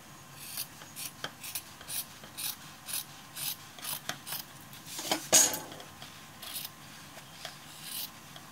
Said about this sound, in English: I think I might just cut this part here